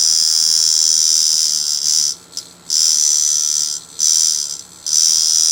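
A color tattoo machine fitted with a 13 mag needle buzzes in a loud, steady high-pitched drone, cutting off briefly three times before starting up again.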